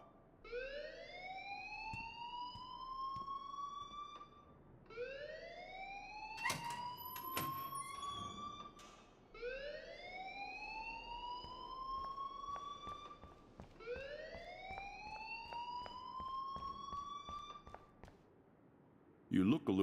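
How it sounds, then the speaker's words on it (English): A rising-and-falling electronic alarm wails in the video game Life is Strange, repeating in four long sweeping cycles over about twenty seconds, loud and steady, with a voice speaking partway through. "please turn off that alarm since that's your job."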